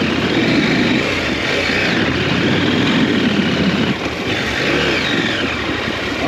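Trail motorcycle engine held on steady throttle while crossing terrain in Iceland, a loud continuous droning rev close by that stays sustained throughout with a slight dip midway, no talk.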